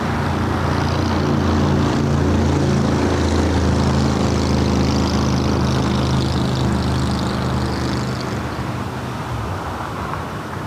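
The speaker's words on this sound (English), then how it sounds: "That's flight 77 heading back to Paris in that A350-900." An Airbus A350-900 airliner heard outdoors at an airport, its engines a broad, steady roar that holds loud and continuous before easing slightly toward the end.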